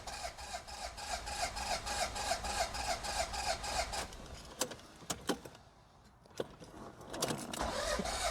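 A car engine is cranked with an AUTOONE JS02 6000A portable jump starter, giving a fast rhythmic starter whir for about four seconds before stopping, followed by scattered clicks and a brief return of cranking.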